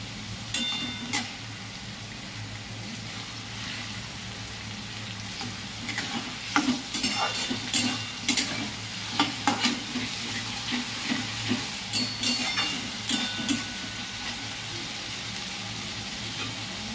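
Lightly salted onions fry gently in a pan for coriander chicken curry, a soft steady sizzle broken by repeated scraping and clacking strokes of a spatula.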